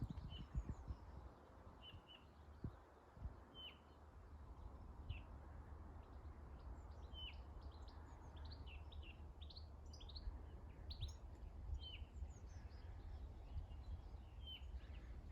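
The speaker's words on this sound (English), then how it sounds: "this little chiff chaff" A chiffchaff sings outdoors in the countryside, its short, high chirps repeating from a moderate distance and fairly faint over a steady low rumble of wind or background noise.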